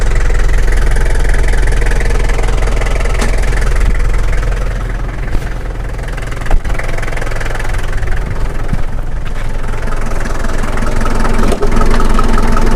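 The turbo intercooled diesel engine of a Daihatsu Rocky jeep idles steadily and loudly up close, a constant low rumble with slight knocking, running alone without talk.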